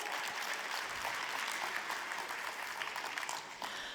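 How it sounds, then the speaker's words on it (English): An audience gives the Rockstar team a big round of applause at a Super Saturday competition event, steady dense clapping that holds at full strength for the whole stretch without a break. "Give them a big round of applause."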